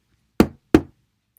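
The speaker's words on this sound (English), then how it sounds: "He knocked at the door." Two firm knocks on a wooden door, close and sharp, spaced about a third of a second apart, then silence.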